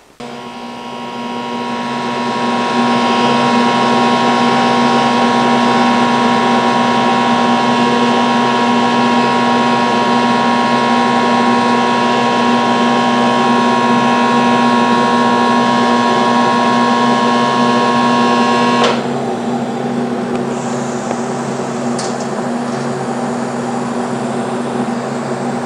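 TIG welding a bead along a stainless steel tube with filler rod, a steady loud electrical hum and buzz with a sharp tonal whine that holds for about twenty seconds, then shifts to a softer, hissier tone near the end.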